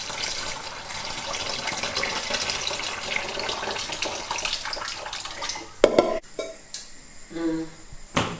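Running water pours steadily through split peas being strained, a close, continuous rushing splash for several seconds that breaks off into a few clunks and short kitchen noises.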